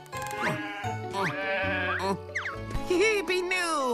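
Cartoon sheep bleating in a children's animated show, several wavering, pitch-bending cries in quick succession, close and bright, with cartoon voices woven around them.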